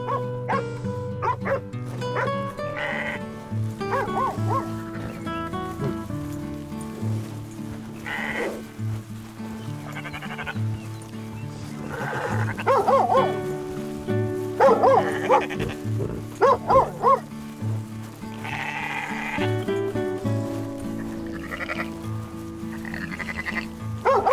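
Sheep bleat repeatedly while being herded in Red Dead, with a herding dog barking among them; the flock calls overlap, some close and loud, others fainter, across a long stretch.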